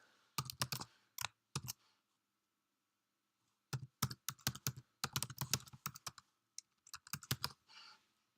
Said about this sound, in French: vous allez donc taper votre adresse